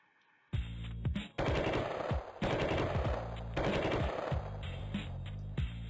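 Rapid bursts of machine-gun fire from the Flash shooter game Sift Heads 2, loud and close, coming in several long volleys separated by brief pauses, with no talking over them.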